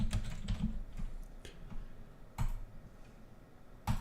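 A search being typed on a computer keyboard: a quick run of soft key clicks, then a few scattered taps and a couple of firmer strokes, quiet and close, with no talking.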